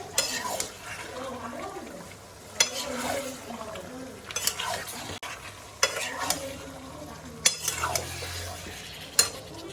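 Meat stirred in a hot pan with oil for a home-style Bengali dish, giving a steady low sizzle broken by repeated scraping and clanking of a metal spoon against the pan, close and fairly quiet.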